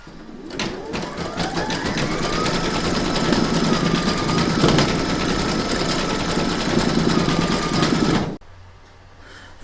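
Embroidery machine stitching a round of an in-the-hoop Christmas pudding ornament, a close, steady rapid needle clatter with a rising whine as it speeds up, stopping abruptly near the end.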